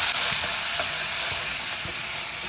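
Vegetables for a cauliflower, double beans and green peas poriyal are stirred and mixed in a frying pan, a constant loud sizzle with a few soft scraping strokes, no voices.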